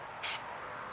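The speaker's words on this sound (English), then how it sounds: "The first of them got 1 coat of the spray filler." A single short hiss of acrylic spray filler sprayed from a can onto a card, a bright burst lasting about a fifth of a second, close and soft, with a quiet background before and after.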